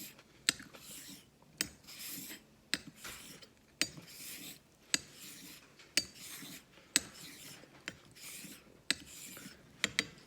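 A Dubl Duck Dwarf straight razor makes light laps on a Naniwa Super Stone whetstone for bevel setting. Rhythmic scraping strokes repeat about every second, each ending in a sharp click as the blade flips, close and alone.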